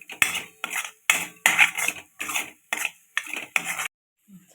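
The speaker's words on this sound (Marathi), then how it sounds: "आता आपण हे छान मसाला परतून घेऊ।" A metal spoon scrapes and clinks against a pan as chole masala is sautéed and stirred, in about eight close, regular bursts with brief pauses between, with no talking.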